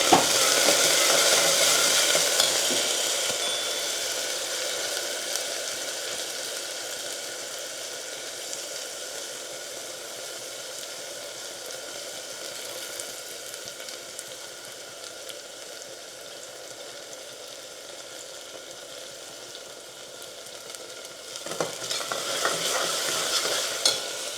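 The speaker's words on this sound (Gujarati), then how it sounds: "તો આપણામાં ડાયરેક્ટ મગની દાળ નાખી દઈએ" Moong dal fries and sizzles in a pan while being stirred, a continuous crackling hiss with scraping stir strokes, louder at the start and again near the end.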